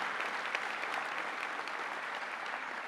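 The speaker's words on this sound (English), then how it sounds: "Give your OSC colleagues a round of applause" Steady audience applause at a union delegates' annual meeting, a dense wash of many hands clapping at even loudness throughout, with no voice above it.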